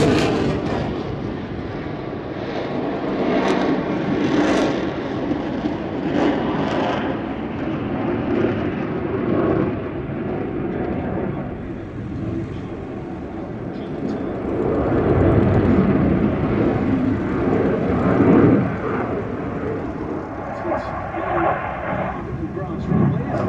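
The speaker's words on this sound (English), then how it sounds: "here's the RAF Eurofighter Typhoon display" An RAF Eurofighter Typhoon performs at an air display, its jet thunder surging and swelling in waves with sharp cracks, loud and continuous, with voices heard alongside.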